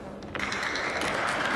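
Applause from the audience at a world ten-ball pool championship final rises in the hall, steady scattered clapping at moderate distance with no voices on top.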